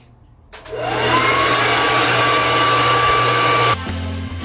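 A hair dryer switches on with a jump in loudness, then blows a steady, close whoosh with a rising whine that settles into a constant tone. It drops back to a lower setting before stopping. There are no voices.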